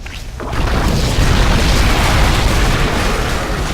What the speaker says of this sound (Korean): 정거장이 곧 폭발한다.